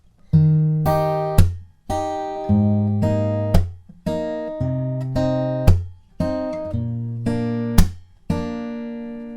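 Acoustic guitar riff made of plucked chord notes, broken up by sharp percussive slaps at regular points, repeating in a steady pattern. Played alone, close up.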